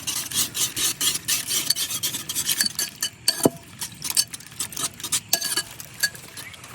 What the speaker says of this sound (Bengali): ডিমটা আমি ভালো করে ফেটাই নিছি।